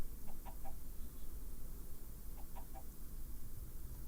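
Chickens in the modded Minecraft Sky Factory 3 game cluck in two short bursts of a few quick clucks each, faint against a steady background hum.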